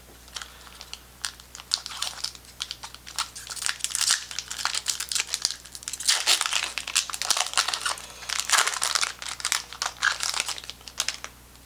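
A Magic: The Gathering Throne of Eldraine booster pack is torn and crinkled open, its foil wrapper crackling in steady, close bursts that build and continue throughout with no voices.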